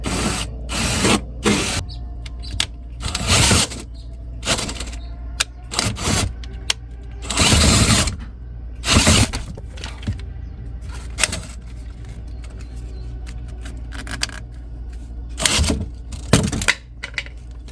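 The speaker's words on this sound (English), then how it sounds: "I don't have a hole saw this big, so we'll see if I can use this cutter" A drywall hole cutter bores through an RV floor in repeated loud, harsh grinding bursts separated by short pauses, close to the microphone.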